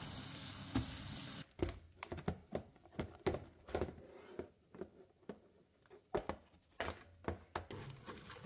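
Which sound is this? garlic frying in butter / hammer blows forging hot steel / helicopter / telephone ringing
garlic frying in butter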